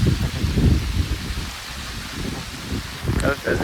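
Rain falls on a village field near Botad while cluster beans are being picked, a steady hiss filling the clip with gusty rustle, and a person speaks over it.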